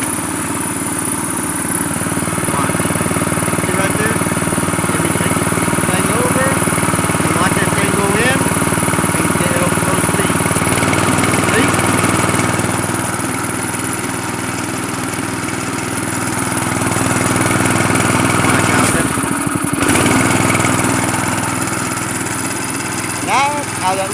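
A gas-powered air compressor engine runs steadily and loud throughout, a continuous mid-pitched mechanical drone with a brief rougher surge near the end; voices can be heard faintly beneath it.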